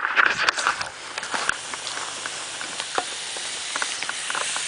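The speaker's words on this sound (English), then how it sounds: "Yeah, this water is boiling." Water rock-boiled in a plastic bag hisses and sizzles steadily, with irregular crackles and pops over a continuous bubbling wash, strongest at the start.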